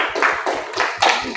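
A short burst of classroom clapping at a madrasa Arabic lesson, a few quick uneven claps from a small group, fairly faint and brief.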